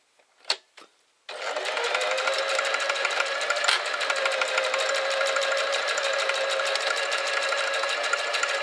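Sewing machine stitching shoulder straps: a few light clicks and taps, then a loud, steady, fast-running motor drone that continues without pause to the end, close up.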